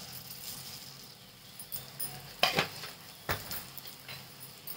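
A spoon stirring crushed peanut powder into green chillies in a pan, with soft scraping and two sharper metallic clinks, close and quiet with no talk.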